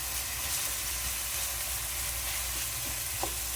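Dinuguan, a Filipino pork blood stew, sizzles and fries in a pan with a steady bubbling hiss, along with a couple of faint utensil clinks near the end and no talking.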